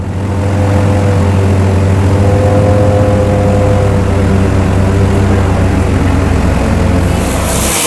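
Inside the cabin of a propeller airplane taking off for Simikot, Nepal, a loud, steady engine drone with a low hum fills the whole stretch, with a brighter rush of noise building near the end and no voices.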